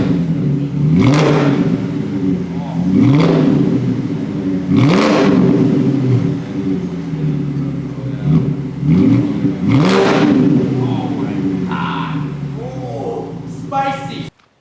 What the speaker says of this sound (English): let it warm up and then give it some rev